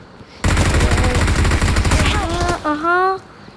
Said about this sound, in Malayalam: എന്തായാലും ഇവിടെ വല്ല ഗണ്ണു ഷൂട്ടിംഗ് സൗണ്ടൊക്കെ കേൾക്കുന്നുണ്ട്.